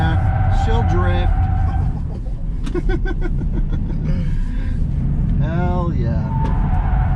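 Tesla Model Y Performance drifting on a race track, loud engine-less motor whine with tires squealing and skidding in rising, wavering streaks, under excited talk and shouting from occupants.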